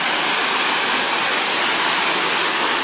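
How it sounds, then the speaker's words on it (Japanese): Loud, constant roar of a nearby 3-metre waterfall at Takizawa Campground in Shizuoka, Japan, a broad rushing wash of water with no pauses. "わあ、これが滝ですね。"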